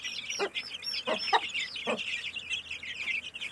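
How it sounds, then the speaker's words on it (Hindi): A black hen clucks while feeding grain to her chicks in a shed. Several short, close clucks rise over a steady chorus of high chick peeping. "उसके ऊपर है ये बच्चों को चुगा रही हैं दाना"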